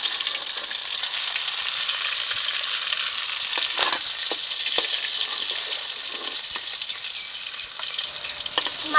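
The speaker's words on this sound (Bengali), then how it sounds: "এখন মাছের মাথাটা ভেজে নেব।" A catla fish head fries in hot oil, giving a steady, close crackling sizzle throughout, with a few sharper pops and light stirring clicks and no voices.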